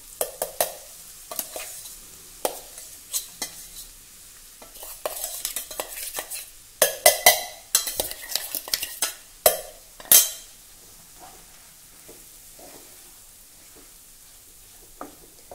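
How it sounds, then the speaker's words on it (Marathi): Ground lentil paste is stirred into a sizzling tempering with curry leaves over a low flame, the spoon scraping the pan in bursts of clatter over a soft, steady fry. "ही वाटलेली डाळ घालूया।"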